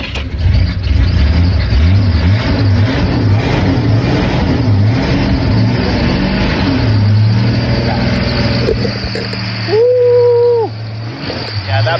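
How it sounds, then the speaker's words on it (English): A 1982 Jeep Wagoneer Laredo idles loudly and revs after a cold start, its long-unused belt squealing in rising and falling chirps; someone talks over the engine throughout. "that belt's squeaking because it hasn't been powered up in a while"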